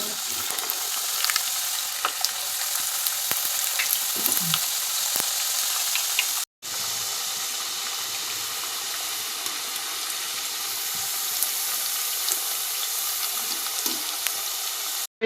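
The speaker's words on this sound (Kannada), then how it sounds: "ಇವಾಗ ನಿಪ್ಪಟ್ಟು ಹಾಕ್ಕೊಳ್ಳೋಣ ಎಣ್ಣೆಗೆ." Nippattu, crisp rice crackers, frying in hot oil, giving a loud continuous crackling sizzle with scattered pops and a brief break midway, no voices heard.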